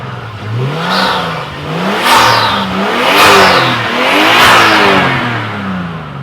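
A Nissan Skyline R32 engine revs and accelerates repeatedly on a test drive, pitch rising and falling in waves over a steady loud drone, with no voices.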